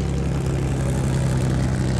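The B-17 bomber Sally B drones overhead at the Flying Legends air display at Duxford, its propeller engines giving a continuous low, throbbing hum with a steady tone throughout.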